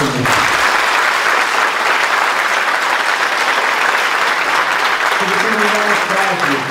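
Loud, steady applause fills the hall for Dra. Maria José at a Schoenstatt gathering in Porto, with a voice becoming audible over the clapping near the end.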